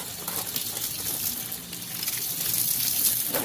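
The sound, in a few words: water poured over hot forged steel sword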